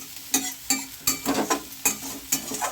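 Drumstick flowers and potato stirred in a frying pan: a spatula scrapes in repeated, evenly spaced strokes over a steady low sizzle, close and clear, with no talk.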